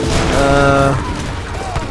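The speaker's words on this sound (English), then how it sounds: "They got a monster spam of heavy cannons with a couple of soldados here." Heavy cannons firing in a large Age of Empires 3 battle, with soldier units nearby: a dense, loud burst of overlapping booms and gunfire with a tonal layer on top, fading into a rumbling battle din.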